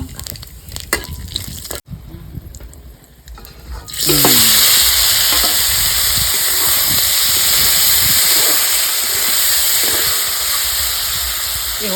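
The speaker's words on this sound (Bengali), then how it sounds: "তেল গরম হয়ে গেছে আমি গোটা মশলাটা দিয়ে দেবো এর মধ্যে আছে জিরে তেজপাতা আর কাঁচা লঙ্কা" Whole spices, cumin, bay leaf and chili drop into hot oil for a fish dish, and after a few quieter handling sounds a loud, sustained sizzle bursts up and continues steadily at close range.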